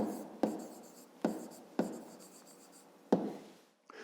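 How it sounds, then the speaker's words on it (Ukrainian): Pen scratching on paper as a maths answer is written down, four separate scribbling strokes with brief pauses between them, close and fairly quiet with no voices. "Пишемо відповідь."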